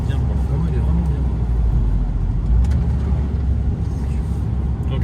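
Inside a Toyota Yaris GR, a deep, continuous rally-style engine rumble fills the cabin at steady loudness, with voices in the car heard over it.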